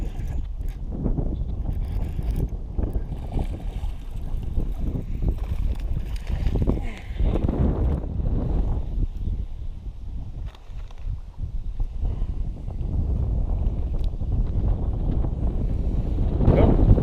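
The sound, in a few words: wind blowing on a lake bank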